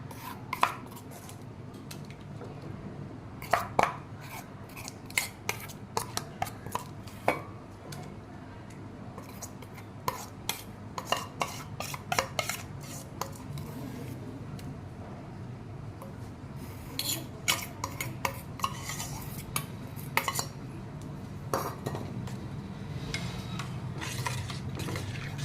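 Powder gets stirred into melted soap base in a pan, with scattered scraping and clinking taps of a utensil against the pan in irregular bursts over a quiet background.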